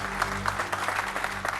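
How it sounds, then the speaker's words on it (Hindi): A gathering celebrating a village headman's birthday breaks into soft, steady applause, heard at low volume over a faint background hum. "तालियां तालियां"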